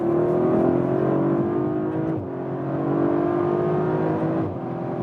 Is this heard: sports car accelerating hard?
yes